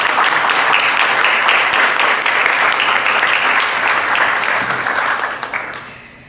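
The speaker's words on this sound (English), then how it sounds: "Let's give her a round of applause." Sustained applause from a large crowd, steady and dense clapping that fades out toward the end.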